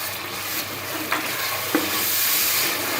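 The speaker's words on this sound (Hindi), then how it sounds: "मसाले को अच्छी तरह आपने जो है वो भून लेना है" Tomato paste and masala frying in oil in a pan for deghi-style chicken, a steady close sizzle with a couple of sharp scrapes as a spoon stirs it.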